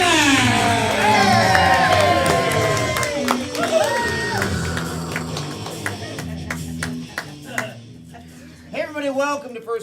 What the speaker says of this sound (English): I need you to put those hands together, start clapping, let's start screaming, let's make some noise